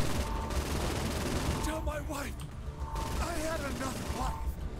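Quick mechanical clicks and clacks of a weapon being reloaded in Saints Row 4, layered into dense, continuous game noise with gunfire and voice-like sounds throughout.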